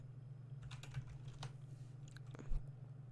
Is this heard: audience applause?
no